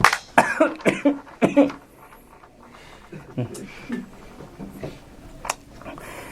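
A few sharp coughs near the start, close and loud, followed by quieter talking.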